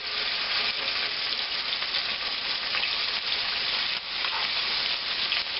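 Steaks frying in a pan at a birthday cookout, giving a steady loud sizzle and crackle that stays dense and unbroken throughout, with no voices over it.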